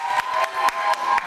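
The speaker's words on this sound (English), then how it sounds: "I want everybody to give a round of applause for Diamond Dog" Studio audience at an interview show cheering and clapping, a bright, fairly distant wash of crowd noise broken by a few sharp louder claps.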